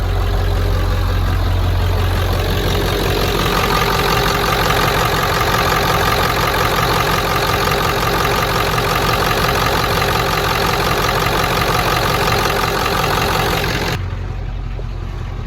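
A 1996 Ford F350 dually pickup with a 7.3 Powerstroke diesel idles close by, a loud, steady clattering rumble that holds without a break and eases slightly at the very end.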